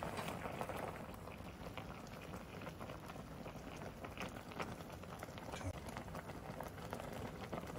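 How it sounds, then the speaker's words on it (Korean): A pot of kimchi stew bubbles at a steady, busy simmer, a dense close-up burble with no pauses. "지금 잘 끓고 있죠."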